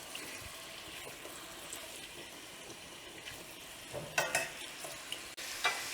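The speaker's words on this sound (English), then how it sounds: "once you get them in the pan, you just want to kind of stir fry them around like this" Shrimp stir-frying in a pan, a quiet steady sizzle with occasional scraping and clinking as the shrimp are moved around, sharper stirring knocks near the end.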